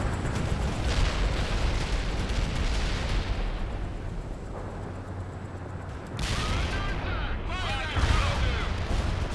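Dense gunfire and heavy explosions from the World in Conflict video game battle during a Russian invasion of Seattle, loud continuous rumbling booms with crackling bursts, mixed with radio voices of units talking.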